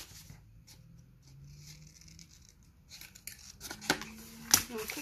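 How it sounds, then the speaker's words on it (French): Scissors cutting through folded paper, a few close, crisp snips that sharpen toward the end after a quieter stretch with a faint sustained tone underneath. "Et on coupe ici."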